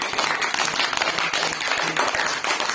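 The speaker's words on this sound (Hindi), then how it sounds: "मेरे साथ ताली बजाओ।" A group of children clap their hands together in a guided meditation session, steady repeated claps blending into a dense patter that runs throughout, fairly close and even in loudness.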